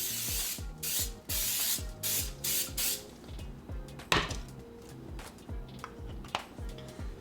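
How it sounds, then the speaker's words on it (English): Cooking spray hisses onto a pan in several short, close bursts, followed by quieter rubbing and clicking handling noises. "you're gonna just put a little bit of cooking spray on the pan"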